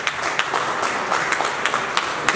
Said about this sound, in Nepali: उहाँलाई एकचोटि जोरदार ताली दिन्छु